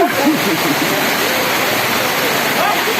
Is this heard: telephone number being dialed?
no